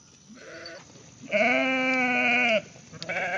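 Goats bleating nearby: a short quavering call, then a long loud wavering bleat, followed by another starting at the end, over a quiet outdoor background.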